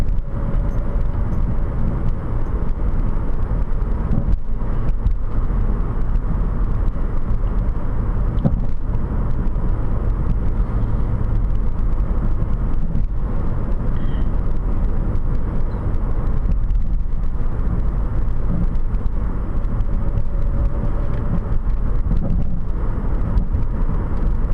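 A car accelerating while merging onto a highway, heard from inside as a steady, loud broadband road and engine rumble that runs unbroken with no talk.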